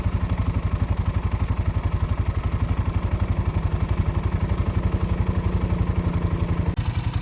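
A new off-road bike's engine and hot rod–style exhaust pulse steadily while riding, a close, loud, rapid rhythmic thrumming with rattling clatter that holds an even pace throughout.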